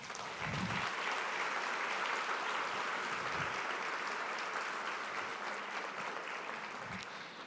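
Sustained applause from the audience at an official ceremony, the inauguration of a prosecutors' association's new board, steady and fairly full throughout, with a few low thumps but no talking.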